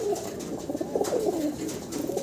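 Turkish tumbler pigeons coo in soft, rolling phrases close by, one call following another over a low background hum.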